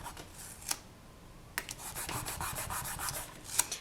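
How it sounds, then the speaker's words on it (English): Coarse sandpaper pressed and rubbed over a thin sheet of rolled-out polymer clay, a close, dry scratching that starts with a few brief scrapes and then settles into steady rubbing strokes. "now I'm going to take some coarse sandpaper, and I'm going to texture this"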